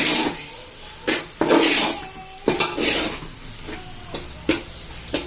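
Gongura pickle mixture being stirred and mixed in a pot, with repeated scraping clinks and knocks of a spoon against the pot at an uneven rhythm, close by, with no talking.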